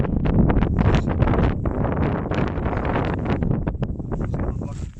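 Wind gusts buffet the microphone in a Catholic cemetery at Saltcoats, a loud, rough rumbling roar with irregular bursts and rustling, no talk over it.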